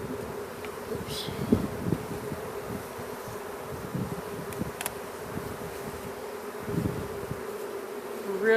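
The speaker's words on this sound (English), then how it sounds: "So knock these bees in here." Honeybees buzz steadily and close by while being knocked into a hive, a dense low hum with a few louder passes near the microphone.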